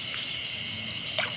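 Frogs croaking in a rice field during a snakehead fishing outing, with a steady insect and frog chorus throughout and a brief nearer call near the end, no talk.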